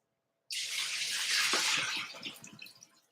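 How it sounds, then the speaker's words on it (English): Water drained off salmon into a sink: a sudden rushing pour starts, runs steadily for about a second and a half, then tapers into trickles and splashes. "I'm going to go ahead and drain this water off."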